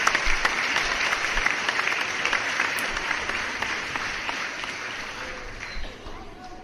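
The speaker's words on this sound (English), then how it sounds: "let me give you an applause, everybody." Dense applause fills a late-night live Q&A stream, sustained and fairly loud, tapering slightly toward the end, with no speech over it.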